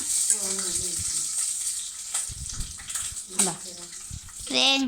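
Green chillies splutter and crackle in a pan of curry for chilli curry, a steady hiss with sharp pops, close and fairly loud, with a voice speaking over parts of it.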